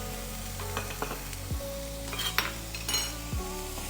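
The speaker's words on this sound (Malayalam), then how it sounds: "സോട്ടേ ചെയ്യുക" Crushed garlic, ginger and chopped green chillies sautéing in a pan, a steady sizzle with a utensil stirring and clinking against the pan in a couple of sharp knocks, close and clear, no talk.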